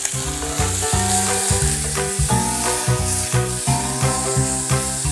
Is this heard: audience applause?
no